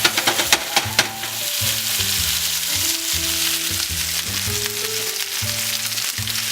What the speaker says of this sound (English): Just listen to the sizzle.